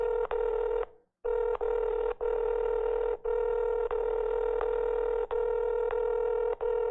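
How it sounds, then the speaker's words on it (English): During a scam call, a strange phone ring drones as a loud, continuous buzzy tone broken by brief dropouts and one longer pause, with nobody speaking over it. "I've never heard a phone ring like that before."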